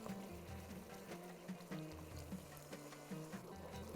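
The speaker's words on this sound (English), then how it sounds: "I'm going to add more water." Water poured into a cooking pot of simmering saffron rice mixture in a home kitchen, a continuous low splashing and gurgling at moderate distance with no talking.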